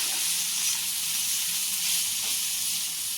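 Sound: crushed cluster beans and garlic sizzling in hot oil tempering

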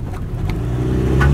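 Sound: loaded milk collection vehicle straining on road

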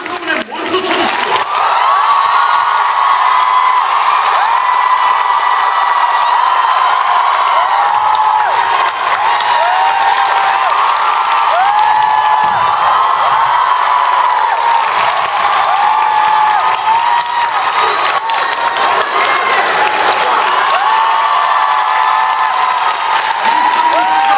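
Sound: audience applause at curtain call

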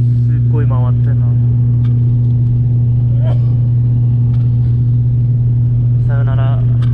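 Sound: airplane engines roaring during takeoff

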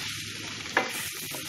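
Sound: stirring potatoes with garlic in a pan

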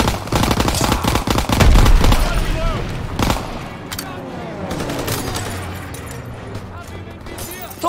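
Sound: gunfire in video game Call of Duty WW2

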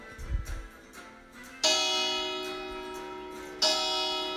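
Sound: church bell ringing

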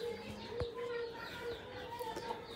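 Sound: chickens clucking

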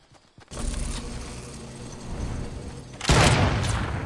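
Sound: gunfire from snipers in the video game Fortnite

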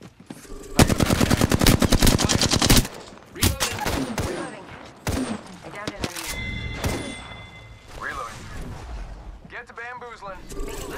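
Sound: gunfire in video game Apex Legends

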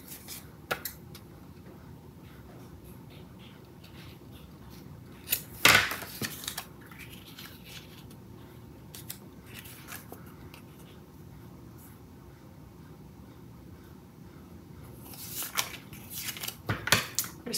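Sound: cutting paper for a scrapbook album binder

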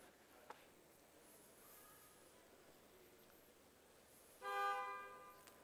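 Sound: car horn honking

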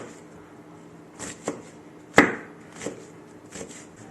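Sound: chopping fresh mint finely with a knife

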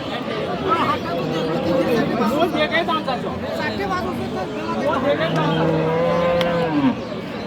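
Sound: cattle mooing at a cow market

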